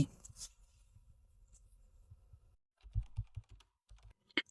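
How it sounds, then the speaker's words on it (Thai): A keyboard typing sound effect added to on-screen text in the CapCut app: a run of soft, quick key clicks that starts after a quiet stretch and ends with a brighter tap, close and faint. "พิมพ์ข้อความของเราเข้าไปได้เลย"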